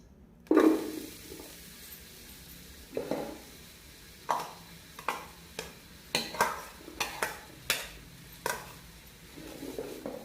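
Onions go into a few spoonfuls of hot cooking oil in a karahi pan, with a soft sizzle underneath and a string of sharp clinks and scrapes from a spoon stirring against the pan, irregular and close.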